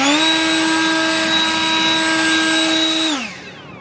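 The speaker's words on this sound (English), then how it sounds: "she's going to use a leaf blower and try to clean out a little bit more of it" Leaf blower cleaning debris off a roof under slate and metal repair, a steady loud motor whine with strong harmonics running continuously, then winding down at the end.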